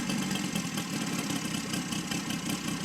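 A Saito FG60 R3 model airplane engine idles steadily at about 1100 to 1200 rpm at close range, a continuous buzzing drone with a slight rough, pulsing texture and no voices.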